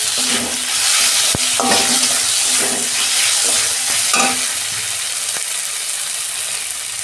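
Chopped tomato goes into frying ginger-garlic masala in a pan. A loud, continuous sizzle carries throughout, broken by repeated scraping strokes of a stirring spoon, up close with no voices.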